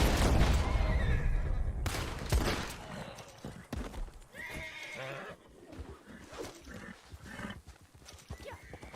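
A horse in Red Dead Online whinnies loudly, then its hooves clip-clop away as it runs off, the sounds fading into scattered thuds and movement.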